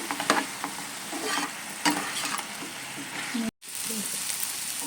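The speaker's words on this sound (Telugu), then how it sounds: "ఇప్పుడు పసుపు వేయండి ఇలానే వేయించండి" Bottle gourd fries with turmeric in a pan for a chutney. A close, continuous sizzle runs throughout, broken by a few spoon-scraping stirs and a brief cut near the end.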